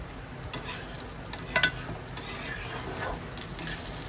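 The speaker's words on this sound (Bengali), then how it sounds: "চালটা কিন্তু ভাজা হয়ে গেছে সুন্দর।" Rice stir-frying in a pan for pulao, soft scraping stirs and a faint, steady sizzle with a few sharper clinks of a spoon against the pan, quiet and close.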